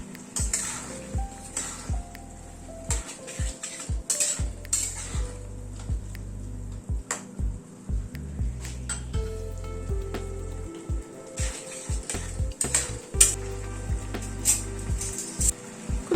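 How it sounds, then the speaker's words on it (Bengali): A spatula clinks and scrapes in a pan as masala with capsicum and kasuri methi is stirred over a faint sizzle, the irregular metallic taps sounding up close over a soft, low musical background. "মশলাটার সাথে কসুরি মেথিটাও কষিয়ে নিচ্ছি"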